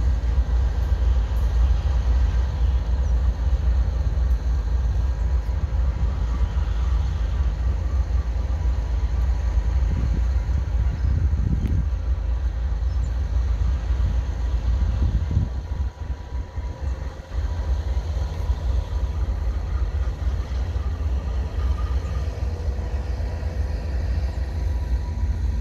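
Via Rail 645 westbound passenger train with an older unwrapped locomotive passing at Fallowfield, a loud steady rumble and rail roar lasting throughout, dipping briefly midway.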